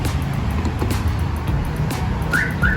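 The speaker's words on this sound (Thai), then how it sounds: "สั่งล็อกนะครับมันจะมีเสียงหนึ่งครั้งนะครับ" Two short high chirps from a Hyundai H-1 van's remote lock sound near the end over a steady low engine rumble and outdoor background noise.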